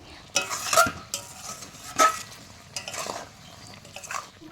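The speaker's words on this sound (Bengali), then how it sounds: "এবার একটু নেড়ে চেড়ে মিশিয়ে নিচ্ছি" Amla murabba being stirred in sugar syrup in a pan, with wet scraping and sizzling bursts of the spoon against the metal at an irregular pace, close and moderately loud, with no talking.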